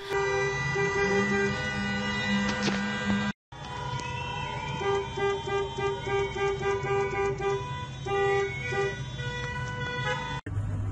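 Protesters in Iran block traffic and sound car horns continuously: a dense, steady wall of overlapping horn tones from many vehicles, loud and sustained with one brief cutout, and no speech.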